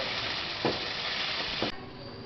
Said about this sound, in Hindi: माशाल्लाह से मसालों की आप अच्छे से भुनाई करेंगे।